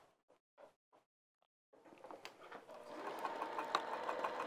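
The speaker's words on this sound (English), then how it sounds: "And now I'm going to sew all the way across this edge." A few soft handling taps give way to a sewing machine stitching across a fabric bag edge, its motor whirring up and running steadily and close.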